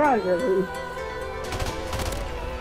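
A rifle fires in Call of Duty Modern Warfare Remastered gun game mode, a short burst of sharp shots after a voice exclaims, with the cracks ringing out loud and close.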